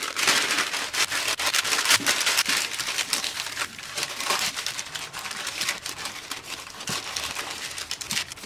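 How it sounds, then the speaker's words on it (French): Sheet of parchment paper pressed into a buttered cake mould, giving a steady close crinkling and rustling with soft papery taps, no voices. "on y place la feuille de papier sulfurisé"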